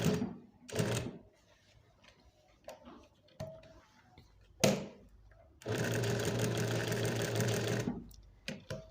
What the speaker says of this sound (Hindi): कपड़ा अच्छे से सेट करके आपने ऊपर को सिलाई घुमा के तो इसको कंप्लीट कर लेना है